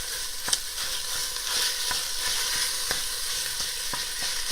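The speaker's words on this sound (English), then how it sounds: "So what I do is I take those Italian sausages. I'm going to drop all of those in." Italian sausages sizzle and fry in a pot for soup, a steady close crackling hiss with occasional small pops and stirring taps.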